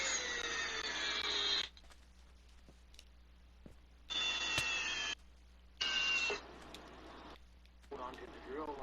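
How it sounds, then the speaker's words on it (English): A power drill spins in three loud bursts of about a second or more each, with a whining motor and quieter pauses between runs, then a weaker fourth start at the end. "Hold on to the drill long enough."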